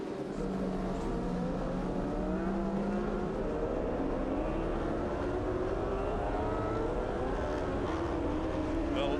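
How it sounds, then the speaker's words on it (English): A road racing motorcycle at the Imatra road races, its engine roaring loudly and continuously with a rising, revving pitch as it passes. "that bike that Peter Hickman's just put together a few days ago"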